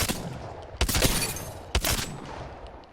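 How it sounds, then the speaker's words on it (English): G7 Scout rifle in Apex Legends firing a double-tap burst, with broadband shot transients near the start and two sharper, louder cracks close together, then a decaying tail, no talk. "This is a double tap trigger, so I shot 3 times."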